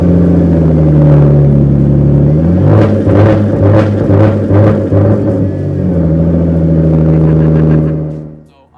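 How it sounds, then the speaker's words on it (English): A 2011 Genesis Coupe 3.8L engine idles loudly, then revs up and bounces repeatedly against a low two-step rev limiter set at 3,000 RPM with a stuttering, pulsing sound before settling and cutting off. "So I'm gonna start the car, give it a little rev,"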